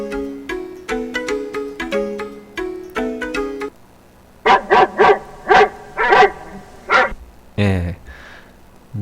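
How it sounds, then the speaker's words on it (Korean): A dog gives a quick series of about eight sharp, close barks in an uneven rhythm after a short run of bright musical notes, ending with a longer whining yelp. "어디서 누가 강아지가 짖나"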